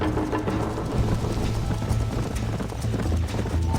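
Rapid, rhythmic hoofbeats of a galloping horse in the video game Red Dead Redemption, continuous and close, with a rumbling background.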